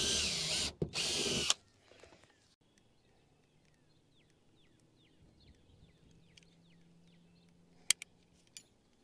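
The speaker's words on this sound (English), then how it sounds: "Switch this out for a bigger drill bit." A power drill fitted with a larger bit bores into a workshop roof to fix Snap-N-Rack solar mounts, a loud, close whine lasting about a second and a half before cutting off, leaving faint birdsong and a few sharp knocks.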